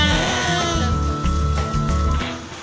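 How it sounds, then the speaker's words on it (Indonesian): A pregnant sheep bleats loudly and repeatedly, its calls near and sustained over other nearby flock noise, with no talking. "Tuh, domba yang paling ceriwis."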